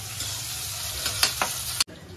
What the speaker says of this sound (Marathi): चणे फ्राय करायला लावले